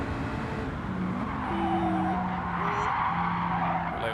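Tyres squeal as a Mini race car in Gran Turismo 7 brakes hard and skids, over a continuous engine roar and other cars on track.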